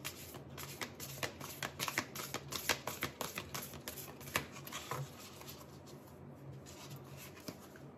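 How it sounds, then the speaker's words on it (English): A deck of tarot cards is shuffled close up, a quick run of crisp riffling flutters and taps that thins out toward the end, with no speech over it. "let me shuffle the card"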